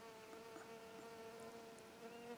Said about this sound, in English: See if I can get rid of the bee.